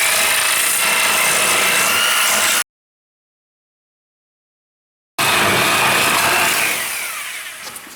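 A power tool cuts a part off a split-window coupe chassis during dismantling, a loud, steady grinding-saw noise that stops abruptly for a few seconds of silence, then resumes and slowly fades.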